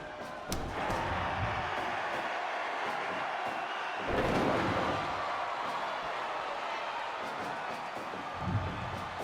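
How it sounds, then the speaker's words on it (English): Wrestling crowd at a SOW Ignition show, a dense steady roar of cheering and chanting that fills the whole stretch, with a brief surge midway and scattered sharp impacts from the ring. "you can hear it, the crowd ever behind Meat"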